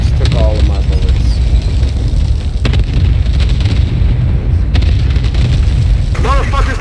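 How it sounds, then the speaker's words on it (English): Booming cluster-strike explosions rumble heavily in a multiplayer shooter battle, loud and continuous, with game noise and sharp transient cracks layered over the low roar while a voice talks. "Cluster strike away."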